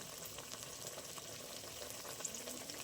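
Eggplant cooked with poppy-seed spice paste simmers gently in a pan, giving a faint, steady bubbling hiss that stays even throughout with no voices.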